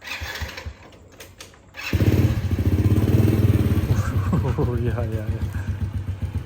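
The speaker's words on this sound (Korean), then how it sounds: "이거 오토바이 제일 큰 재산이기 때문에 저기 거실 안에 넣어놔야 됩니다" A motorcycle in Laos fires up at about two seconds into a loud, steady idle with a rhythmic chug. It keeps running while a voice calls out nearby, as the bike is pushed indoors into the living room.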